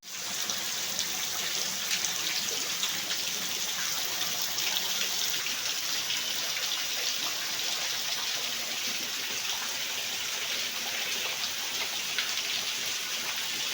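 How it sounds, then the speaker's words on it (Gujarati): Steady rain falls outdoors around a parked car with an open window, a continuous even hiss of drops on surfaces at moderate loudness, with no voices. "વરસાદ ચાલુ જ છે જોઈ લો"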